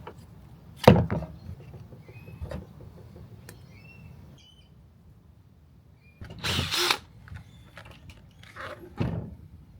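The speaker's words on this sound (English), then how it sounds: "I could drill a hole that would allow the barb to fit through" A power drill boring a hole through a container lid to fit a hose barb for a van's freeze-proof water setup, heard as a short loud burst near the start and a longer burst later, with quiet handling noise between.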